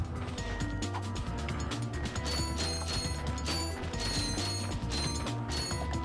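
Ratchet & Clank on PS3: steady mechanical gear and ratchet clatter with metallic clicks and chimes as bolts are collected, a dense continuous layer of game effects and music.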